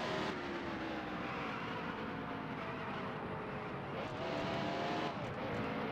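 A race car in a racing video game, set at Richmond, drones continuously at high revs with gear-change dips as it downshifts, loud and close with no talk over it.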